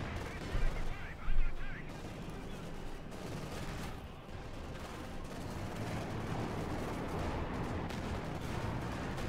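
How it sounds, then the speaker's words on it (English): Gunfire in Company of Heroes 2 during a match with tanks in play, a steady mass of battle noise with a few louder bursts near the start, under a commentator's voice. "there goes shots fired"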